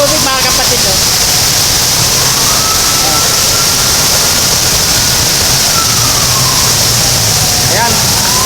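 Rushing floodwater from Typhoon Carina in Marikina roars steadily as a loud, continuous noise that fills the whole stretch, with a faint engine hum underneath.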